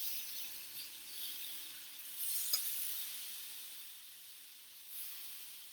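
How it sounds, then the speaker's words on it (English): Food searing in a hot pan, a faint, quiet sizzling hiss that holds steady and swells briefly a couple of times, with a small clink partway through and no talking. "So this is sizzling."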